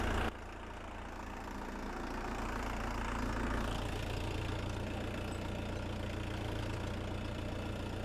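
A tractor engine idling at its lowest revs while driving a water pump for irrigating raspberries, a steady low rumbling drone close by, with no talk.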